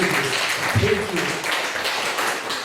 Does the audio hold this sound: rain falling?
no